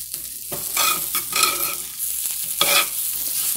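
Potatoes frying and browning in a pan for breakfast burritos, a close, continuous sizzle punctuated by several spatula scrapes and stirring strokes, with no voices.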